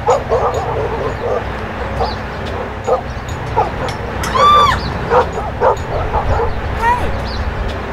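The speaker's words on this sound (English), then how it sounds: "Come and get your dog! That dog needs to be on a leash." A dog, apparently a pit bull, barks and yips repeatedly in short bursts outdoors, with whimpering cries between them, while people talk and shout over it.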